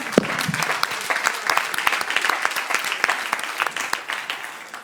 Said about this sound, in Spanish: Euch geben wir einen Applaus.